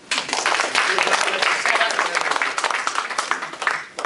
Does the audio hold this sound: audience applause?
yes